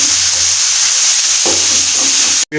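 Masala stirred and frying in a kadhai for baingan ka salan: a loud, steady sizzle with scraping stirs, a brief break near the end before the frying hiss returns.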